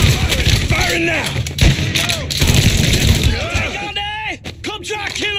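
Gunfire in the video game Mafia III sounds as loud, dense bursts of shots and booms. Shouted voices and combat chatter run through it, and sharp individual shots come at the end.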